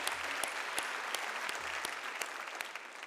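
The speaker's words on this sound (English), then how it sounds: "You can give yourselves as many rounds of applause as you want." A graduating class applauds at a university commencement ceremony, a steady wash of clapping from a large crowd with a few sharper claps standing out, sustained and fairly close throughout.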